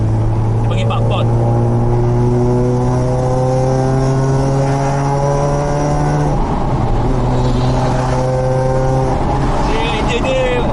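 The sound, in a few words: Mazda RX-8 rotary engine running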